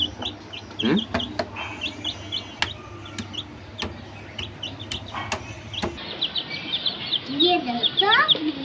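High, rapid peeping of young chicks comes in clusters, mixed with clucking and sharp knocks nearby, and faint talk in the background.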